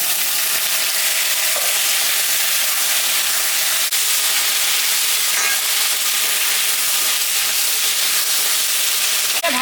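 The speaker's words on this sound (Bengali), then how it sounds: "পেঁয়াজটা ভাজা ভাজা হয়ে গেছে, এখন আমি কচুটা দিয়ে দিব।" Onion and taro fry steadily in a pan, a continuous broadband sizzle and hiss that stays even throughout, with faint stirring underneath.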